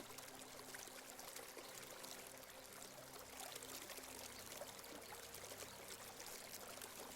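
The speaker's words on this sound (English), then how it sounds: "focusing on the water sound" A mountain river flows steadily in a continuous broadband rush of water, heard close and fairly even throughout with no voices.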